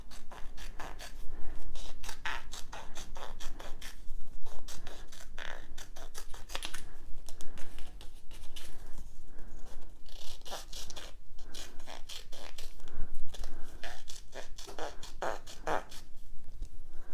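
Scissors cutting sheet material in half for a Cricut craft project, with repeated scraping and crunching snips in an uneven rhythm, close and steady over many seconds, with no talking.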